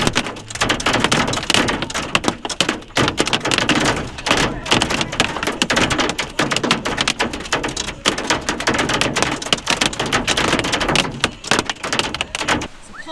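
Hail and heavy rain pound the roof of an RV, a dense, continuous rattle of hard impacts and loud thuds filling the whole stretch without letup.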